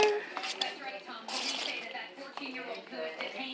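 Macaroni and cheese stirred together in a pot, with soft squishing and scraping plus light clinks of a utensil against metal, close up, with voices talking over it.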